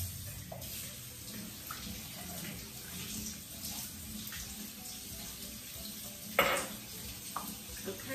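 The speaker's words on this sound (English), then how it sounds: "give them a good rinse, strain it, rinse it some more" Water runs over dry black beans held in a jar and strainer during home canning. The rush is steady and soft, with a clatter and splash of beans near the end.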